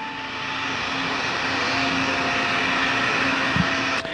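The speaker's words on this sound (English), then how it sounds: "SRB ignition and liftoff." An H-IIB rocket carrying the Kounotori 3 cargo craft lifts off as its solid rocket boosters ignite. A loud, continuous, broadband roar holds steady throughout.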